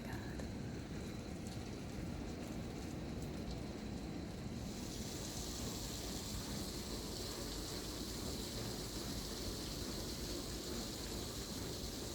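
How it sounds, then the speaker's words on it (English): Heavy rain pours down in a steady, dense hiss, constant and loud throughout, with a slight change in its texture partway through. "It started raining again, super hard."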